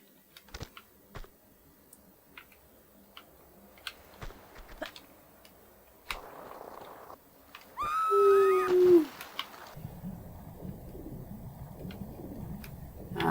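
Birds in the video game Tomb Raider II, in the Tibetan Foothills, give a clear cooing call with a rising whistle near the middle. Sparse ticks and clicks scatter through otherwise quiet game ambience.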